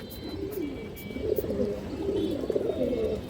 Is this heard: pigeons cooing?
yes